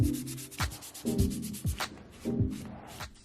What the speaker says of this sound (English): more sanding to get rid of all the high spots in not only the body filler but also the filler primer